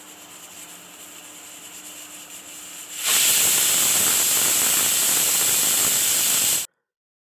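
A pressure cooker of coconut rice on a medium flame lets out its whistle: after a quiet hum, a sudden loud, steady rush of hissing steam lasts a few seconds, then stops abruptly.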